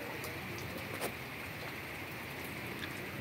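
Steady rain falls at the Jatigede reservoir, a dense, even hiss of drops spread across the whole moment, with one slightly louder splash near the start and no voices.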